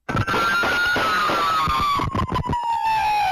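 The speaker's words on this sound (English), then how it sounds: "the first thing you hear is deafening gunfire and sirens" Loud, chaotic burst of sharp cracks and pops layered over a wailing siren that slowly falls in pitch, dense and deafening throughout.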